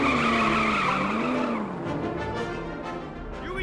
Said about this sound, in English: He's doing donuts for us.